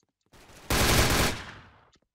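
A rifle fires in the shooter game Special Force, a single loud, close automatic burst that starts abruptly, then fades out over about a second and a half, with nothing else around it.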